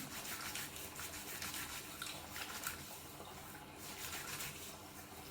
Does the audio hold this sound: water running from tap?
yes